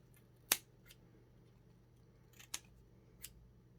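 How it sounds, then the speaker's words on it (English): Three sharp, close snips of scissors cutting thread, spaced a second or two apart in an otherwise quiet room. "just cut off most of the excess at the bottom"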